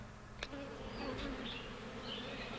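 A steady, close drone of many honey bees buzzing during a removal from a barn, with individual bees whining past now and then.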